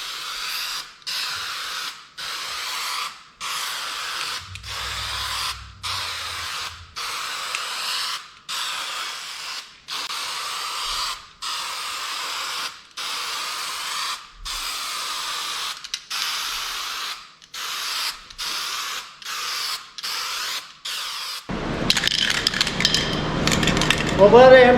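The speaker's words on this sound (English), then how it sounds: "I'm ready to put the finished coat on this" A spray can lays a finish coat on an old junk chair: a long series of short, close hissing bursts in steady rhythm, ending in a louder, continuous spray as the can runs empty.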